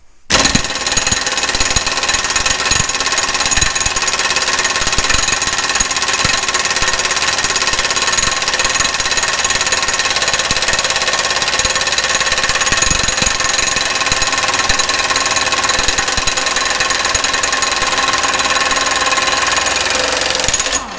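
A pneumatic impact gun running at 90 PSI, pushed toward 1,150 foot-pounds, fires in one loud, continuous rattling burst for about twenty seconds, close and steady, with no talking.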